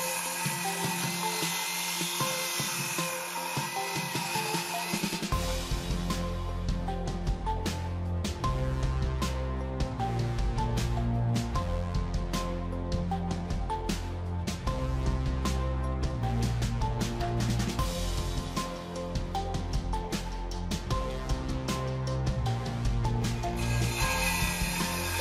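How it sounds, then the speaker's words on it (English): A Ryobi brushless 7 1/4 inch circular saw on its stock blade bites into wood after a few seconds of high whine, then grinds loudly and steadily through the cut for about twenty seconds. A brief whine returns at the end. No one speaks. "the saw we're using right here is this Ryobi brushless 7 1/4 inch circular saw"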